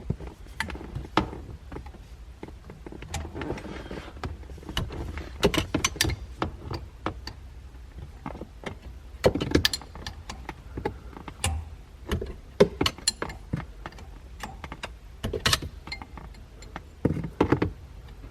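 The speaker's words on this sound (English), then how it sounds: "there's 2 bolts that hold the shifter in place on the linkage down there. So I'm going to take those off right now." Bolts are removed from a car shifter's linkage, with scattered metallic clinks, ratchet clicks and tool knocks at close range, irregular and alone.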